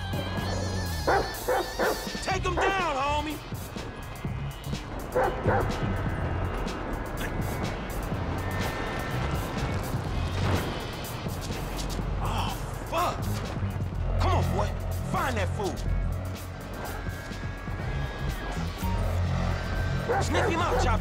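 Chop the dog in GTA V barks and yips in short repeated bursts over constant game music and engine-like drone, with someone talking over much of it.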